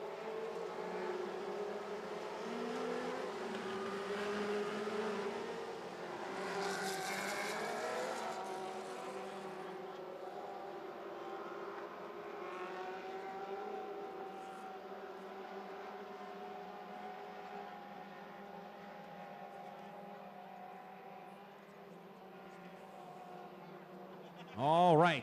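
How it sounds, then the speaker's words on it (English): Lightning sprint race cars on a dirt track, a distant layered engine roar that rises and fades as cars circle, faint overall, with a commentator talking over it and a brief louder burst at the end. "getting ready to go back racing now. 3 laps on the Pepsi board"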